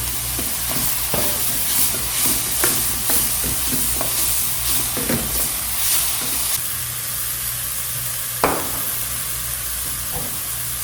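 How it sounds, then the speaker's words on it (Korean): Onions seasoned with salt and pepper stir-fry in butter in a pan, giving a bright continuous sizzle and hiss with repeated scraping stirs and clinks, close up and without talk. "양파의 매운 향이 날아갈 정도까지 볶아주세요."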